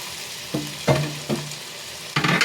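Pieces of liver frying in a pan for chopsuey, stirred with a utensil that scrapes and clanks against the pan in four distinct strokes over a quiet background sizzle.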